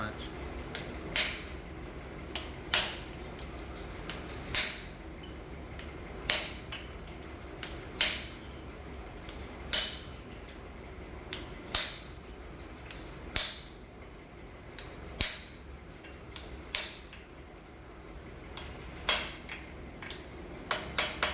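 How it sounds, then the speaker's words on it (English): A small hammer taps a brass punch to walk a press-fit part back on a Cadillac 500 short block, sharp metallic strikes spaced about a second apart, close and distinct against a quiet shop background. "I usually just walk these back with a small hammer and a brass punch."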